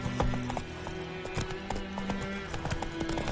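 Horse hooves clip-clop at a steady trot in a video game, with continuous rhythmic thuds over an ambient game background.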